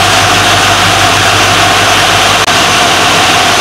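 An LS-swapped GBody engine idles at about 740 RPM with the A/C running, a loud steady rumble and hum with a dense fan-like roar and no talk.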